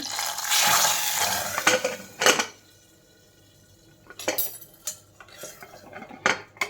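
Garlic tempering is poured into a colocasia leaf curry and the pot is covered. A brief burst of hot sizzle comes with clattering metal spoons and a pot lid, then quiet, then more clinks and knocks.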